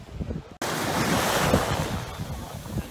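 Surf and strong wind at Arashi Beach on Aruba: after a brief quieter moment, a loud, steady wash of waves and gusty wind buffeting the microphone fills the rest, with no voices.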